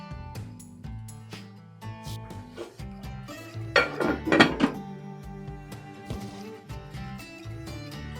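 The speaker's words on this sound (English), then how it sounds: "Put the lid back on and cook my noodles." A lid clatters back onto a skillet of noodles and hamburger in a home kitchen, with a burst of metallic clanks and scrapes in the middle over a low steady simmer; music plays throughout.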